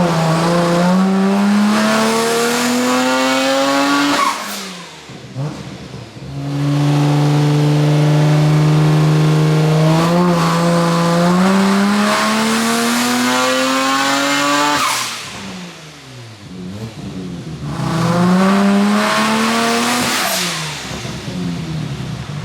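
A Nissan R34 GTR on a dyno revs hard through three long climbing pulls, its engine note rising in pitch each time before dropping off between runs, loud and close with no talk.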